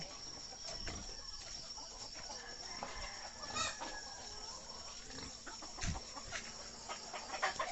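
A hen clucks softly at a distance amid a steady outdoor background hum, with a few brief louder calls scattered through.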